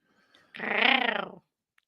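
A dog gives a single low, rumbling growl lasting under a second, close and fairly loud, with near silence on either side.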